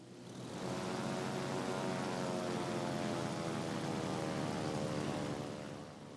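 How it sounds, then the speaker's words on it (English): Aircraft engines surge and drone steadily in a World of Warships: Legends naval battle, a sustained propeller-like roar that swells in, holds for several seconds, then fades. "I'm going to hit my plane engine boost"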